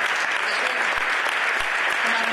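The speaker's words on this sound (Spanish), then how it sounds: "Yo creo que merecen un aplauso fortísimo" Audience applause fills a hall at a Euro-Mediterranean battery summit, steady dense clapping heard alone at close range for a couple of seconds.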